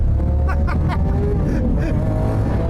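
Lamborghini Aventador S driving hard on a wet track, a loud continuous engine roar close by with a couple of brief revving swells, filling the whole short stretch without pause.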